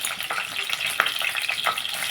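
Onions and green chillies frying in a pan, a busy continuous sizzle with crackling pops and an occasional stir, close and fairly loud with no talk.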